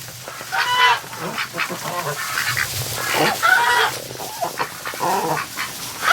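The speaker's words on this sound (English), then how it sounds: "Even Goose Lee's coming in here" Geese honk repeatedly nearby in a barn, loud nasal calls overlapping with rustling and muffled shuffling.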